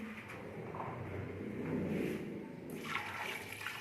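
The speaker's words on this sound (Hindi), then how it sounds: "और अब हम इसमें पानी ऐड करेंगे" Water is poured into a cooking pot while making chicken shami kabab: a steady, moderately loud splashing pour that swells slightly partway through and continues for several seconds.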